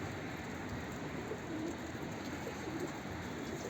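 Soft cooing from a Mardin tumbler pigeon repeats a few times against a steady background hum, the low calls faint and somewhat buried in the noise.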